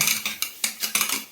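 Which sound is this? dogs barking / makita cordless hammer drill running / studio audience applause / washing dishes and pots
washing dishes and pots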